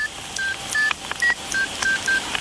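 A phone number being dialed produces a quick series of about eight short keypad tones, each a clear beep separated by small gaps, with faint background noise around them.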